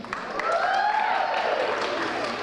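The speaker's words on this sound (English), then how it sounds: "I thought we said no cheering like that" A school awards ceremony crowd cheers and whoops in a sustained rising-and-falling group holler under scattered clapping, filling a hall for a couple of seconds.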